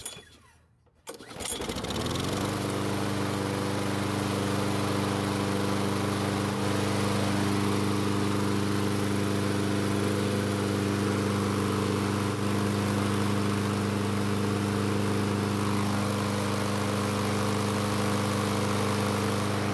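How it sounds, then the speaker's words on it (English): A petrol lawn mower with a fuel leak starts and then runs steadily while mowing grass, its engine a close, loud, constant drone with a slight dip in pitch midway. "What I'm going to do is start the engine, replace the air filter, and then mow the grass until it runs out of fuel."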